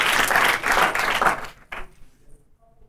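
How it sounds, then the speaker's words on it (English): An audience applauds student leaders from Harvard, Cornell and MIT at a panel on antisemitism: dense, steady clapping for about a second and a half, then it quickly dies away into near silence. "Audience, give them a round of applause."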